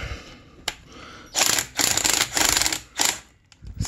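A bolt being screwed into a tight track rail slide gives close, dry scraping and rasping bursts in short repeated strokes, with brief pauses between them.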